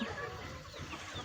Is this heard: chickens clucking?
yes